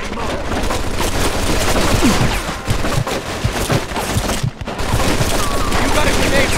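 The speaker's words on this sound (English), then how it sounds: "Looks like we found the machine gun." Machine gun fire in the video game Mafia 2, sustained loud dense rattling bursts with a short lull, and voices faintly heard beneath.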